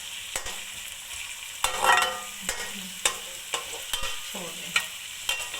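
Chicken frying in a pan until light brown, a steady sizzle with repeated clacks and scrapes of a spoon stirring at regular intervals; a voice speaks briefly.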